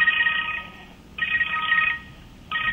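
A telephone rings in the background of a Persian-language broadcast interview, with two long electronic ring bursts and the start of a third, fairly loud and steady with short gaps between them.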